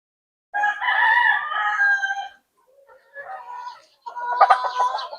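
A gamecock rooster raised as a backyard fighting bird crows loudly and close, one long crow followed by a shorter broken call and another crow, with brief silence between.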